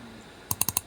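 Four quick, crisp computer keyboard keystrokes entering data into an Excel spreadsheet, close and fairly quiet after a brief near-silent pause.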